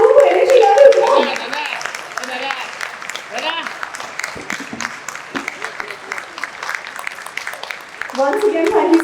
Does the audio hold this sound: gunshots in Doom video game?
no